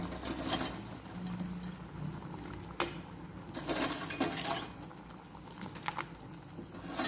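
Crab pieces drop into a simmering crab curry (nandu kuzhambu) and a lid goes on the pot. A soft bubbling patter runs under a few sharp metallic clanks, heard up close with no talking.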